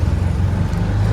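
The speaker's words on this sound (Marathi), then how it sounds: "आम्ही रिक्षात बसलोय सध्या" Riding inside a gas-fuelled auto rickshaw on a road, a steady, close engine rumble with road noise runs throughout, with no talking.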